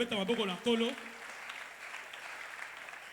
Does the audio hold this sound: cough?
no